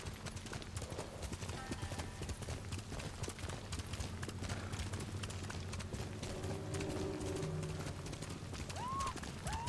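In the Ghost of Tsushima video game, a horse gallops along with fast, rhythmic hoofbeats close by, under ambient game sound and a brief whinny, with faint voices mixed in.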